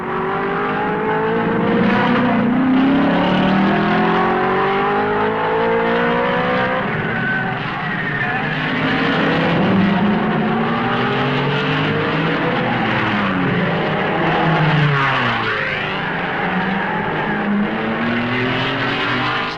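A pack of 1955 racing cars brakes hard into the La Source hairpin at Spa during the Belgian Grand Prix, engines roaring and downshifting with falling and rising pitch sweeps, loud and continuous as several cars pass close by.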